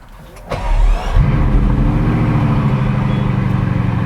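A Bugatti Chiron fires up at the press of a start button: a sharp catch, then a loud, deep idle that rumbles on steadily right up close.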